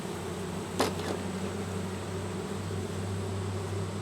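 Honeybees buzzing at an open hive as smoke is puffed over them, a continuous droning hum with one brief louder puff near the start.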